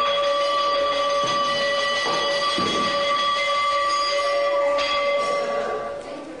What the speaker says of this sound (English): The bell sounds 3 times daily, in the morning, at midday, and in the evening